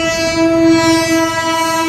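A train rolls past a roadside market beside the railway, loud and close. A steady horn drone sits over the rumble and clatter of wheels, with no voices.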